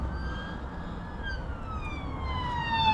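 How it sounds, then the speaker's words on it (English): A police car siren wails as it approaches and passes, its tone sliding downward, heard from inside an HGV cab over a steady low engine and road rumble, fairly loud. "another police car coming now."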